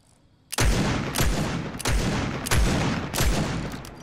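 Scoped AR rifle fires in a video game, shot bursts landing roughly every two-thirds of a second across several seconds, each with a sharp crack and booming tail, loud and close with no talking.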